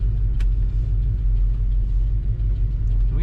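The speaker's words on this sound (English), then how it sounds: "Today we're driving a 1969 Chevrolet Nova." A black 1969 Chevrolet Nova 396 with an automatic transmission is driving along, giving off a steady, loud low engine rumble and road drone that holds evenly throughout without talk.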